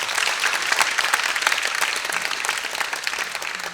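A concert audience at a summer music school claps after an upbeat performance, with loud, dense, sustained applause that fills the room evenly, and no voices over it.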